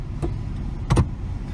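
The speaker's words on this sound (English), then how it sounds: "And I can slide the track." A car seat slides along its track with two short mechanical whirring bursts, the second louder and longer, over a quiet cabin background.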